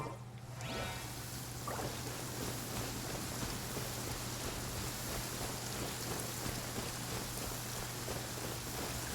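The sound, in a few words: rain falling in video game Genshin Impact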